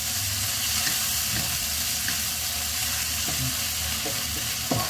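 Bagoong fries in a pan with vinegar and calamansi while a spoon stirs it, giving a steady close sizzle with occasional scraping taps of the utensil against the pan.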